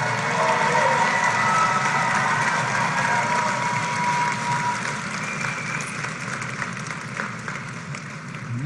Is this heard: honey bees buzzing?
no